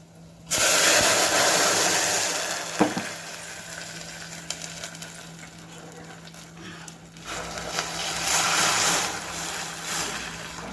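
Hot tempering with curry leaves hits ajwain rasam and bursts into a loud, sudden sizzle close by, then settles into a steady hiss and crackle that swells again near the end.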